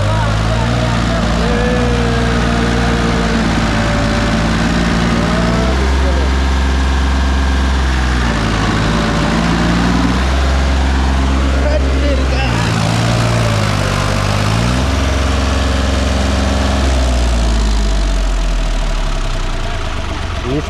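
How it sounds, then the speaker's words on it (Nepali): A tractor engine runs loud and steady, chugging through shifting revs on a countryside track, while people talk over it. "ट्र्याक्टर त जङ्की पारामा उड्छ फेरि"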